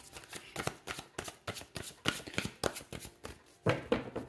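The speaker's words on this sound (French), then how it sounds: "Je vais tirer d'autres cartes." Tarot cards are shuffled for a reading in quick, crisp riffles and taps, a close rhythmic flutter of repeated bursts with no one talking.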